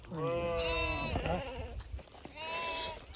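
Sheep and goats of a Gaddi shepherd's flock in Himachal bleat close by, one long quavering cry followed by a second bleat, fairly quiet, with faint talk in the background.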